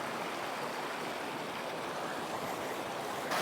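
Clear river water flows steadily past in a mountain valley near Bridge of Orchy, a continuous close rushing wash with no talk over it.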